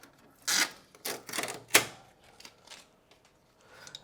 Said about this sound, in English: not sure why that sticker is there, but I will oblige and I will tear off